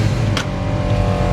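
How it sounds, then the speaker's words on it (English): A 1969 Chevrolet Malibu with SS badging idles close by, its engine giving a steady, loud, low rumble with a brief higher burst partway through. "So you can hear how tight the engine is."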